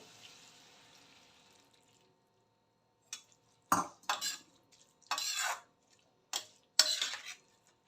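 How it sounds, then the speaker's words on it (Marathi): A spoon stirs milk into grated pumpkin halwa, giving several short, close utensil scrapes and clinks separated by pauses, after a faint wash of background noise. "दूध चांगलं मिक्स करून घेतलेलं आहे"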